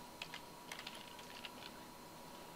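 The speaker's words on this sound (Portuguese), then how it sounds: "Digitei Mauro, com um Tab ele já me leva para a coluna ramal" Keystrokes on a computer keyboard while entering data into an Excel 2010 spreadsheet, a sparse run of light clicks with short pauses, fairly quiet against faint background hum.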